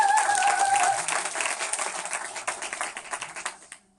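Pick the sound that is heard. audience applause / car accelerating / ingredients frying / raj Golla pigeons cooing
audience applause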